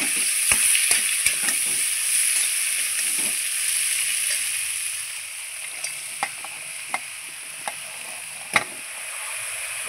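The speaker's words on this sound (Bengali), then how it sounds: "দিয়ে লাউগুলো এখন ছেড়ে দিচ্ছি" Bottle gourd pieces sizzle steadily in hot oil with dried red chillies, bay leaves and nigella seeds, a constant bright hiss broken by sharp scrapes and clinks of stirring.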